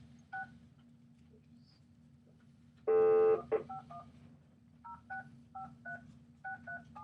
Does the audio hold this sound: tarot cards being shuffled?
no